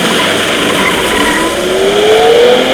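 A modified Nissan 370Z set up for autocross drives at speed, its engine a loud, steady drone whose pitch climbs gradually as it revs, heard close with wind and road noise and no talking.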